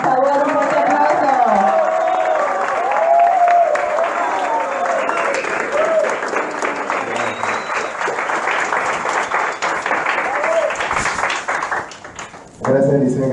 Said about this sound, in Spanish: Vamos a presentar a Omar Garrido, por favor, un fuerte aplauso.